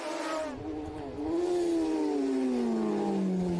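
A racing motorcycle at the Southern 100 road race roars past up close, its engine note rising and then dropping in a clear drawn-out Doppler sweep.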